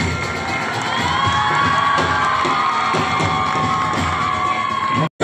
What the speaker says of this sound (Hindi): बच्चों आवाज निकालिए, एक बार जोर से आवाज निकालिए।